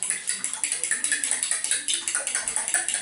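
Eggs being whisked with a fork in a home kitchen while baking pies, a fast, steady run of light clicking taps against a bowl, close up and alone.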